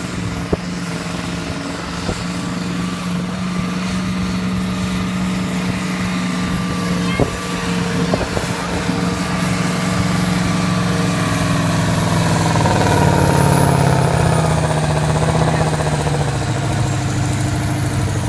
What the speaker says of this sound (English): Oh, and there's a tractor.